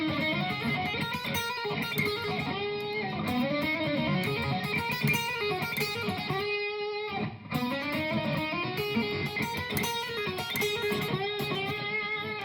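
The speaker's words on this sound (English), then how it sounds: "So the lick I'm talking about sounds like this." A fast electric guitar lick, run through distortion and effects, streams continuously with legato hammer-ons and pull-offs, loud and close with a brief gap midway and no talking.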